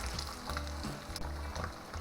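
Shrimp and cheese rolls crackle and sizzle in hot oil, a soft, close frying hiss broken by faint pops and light stirring sounds, with no one talking.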